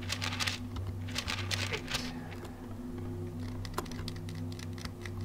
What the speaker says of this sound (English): I can faintly hear clicking coming from the ceiling.